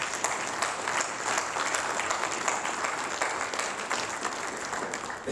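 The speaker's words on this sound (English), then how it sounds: "Round of applause for all the district deputies." An audience at a formal gathering applauds district deputies, a steady round of clapping from a crowd that holds evenly for several seconds without voices.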